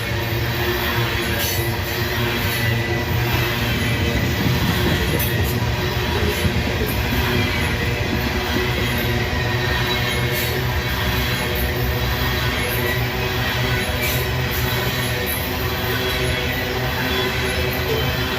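A long freight train rolls past close by at steady volume, its cars rumbling and clattering continuously on the rails at a level crossing in Abbeville, South Carolina, with no talk over it.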